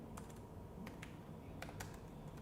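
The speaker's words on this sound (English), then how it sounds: "I can just type here a footer" Footer text is typed on a computer keyboard, a quick run of light key taps in small bursts over a low steady room hum, faint and close, with no voices.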